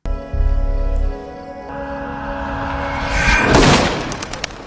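A sharp, booming gunshot from a film rings out once near the end, cutting through a low sustained music bed.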